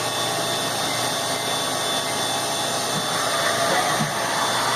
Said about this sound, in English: Spindle runs pretty smooth.